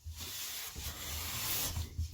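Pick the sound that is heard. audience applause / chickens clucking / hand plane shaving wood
hand plane shaving wood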